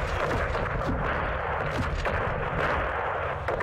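Airstrike explosions rumble continuously in the Modern Warfare 2 (2022) video game, a dense, loud wall of overlapping blasts and booming gunfire with no break.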